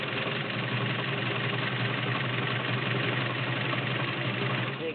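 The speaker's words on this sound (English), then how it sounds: "Get it going here, full lock. Full width, zigzag. Very quiet, very nice," A vintage Dressmaker S-2400 sewing machine runs steadily at full width zigzag, giving a continuous, even mechanical whir with a close, constant stitching drone and no talk over it.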